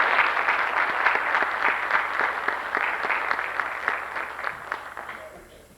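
A seated audience gives a steady round of applause for award recipients at a 1998 St Paul's College REBATE awards ceremony, with dense clapping that carries on evenly before tapering off at the end.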